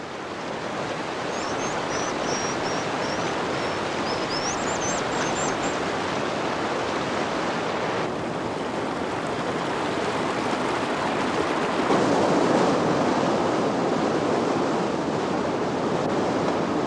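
A fast-flowing mountain stream in the Grand Teton wilderness rushes in a continuous, loud broadband roar, with a brief high bird call near the start.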